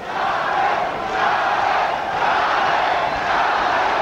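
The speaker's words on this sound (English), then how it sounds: "Crowd chanting for Julio." A boxing arena crowd at a Julio Cesar Chavez fight chants steadily in loud, rhythmic waves that fill the whole clip, with no talk over it.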